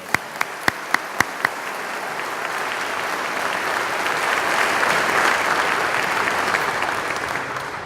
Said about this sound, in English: So let's give those employers a round of applause